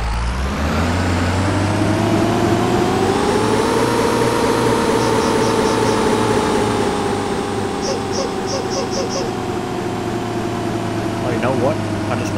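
The engine of a Thomas Saf-T-Liner C2 school bus in the Rigs of Rods game, a loud steady diesel drone that rises in pitch as it revs and then holds high. A few faint chirps sound over it.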